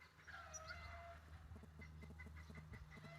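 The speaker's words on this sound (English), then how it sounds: "yes, these are chicken" Chickens cluck faintly in the distance over a steady low hum, with scattered bird calls and soft rhythmic clucks, in rural Slovenia.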